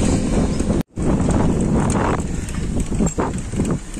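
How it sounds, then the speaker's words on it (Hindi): Strong wind buffets the microphone while cycling along an empty road, a loud continuous rumble with gusty swells and one brief dropout. "रास्ते में देख लीजिए कितना तेज हवा चल रहा है"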